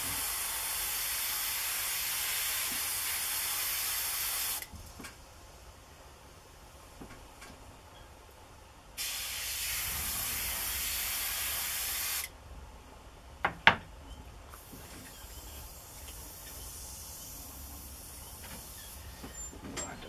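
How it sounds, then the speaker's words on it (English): Two long bursts of loud spray-paint-can hiss while stenciling, each about four seconds, separated by a quieter pause, followed by a few sharp clicks and a softer hiss. "you have to spray pretty heavy"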